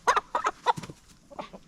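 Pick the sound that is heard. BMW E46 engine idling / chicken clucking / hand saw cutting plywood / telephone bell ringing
chicken clucking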